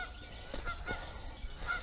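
Geese honk outdoors near running water at a construction project site, a few short nasal honks close by in quick succession over wind and background noise.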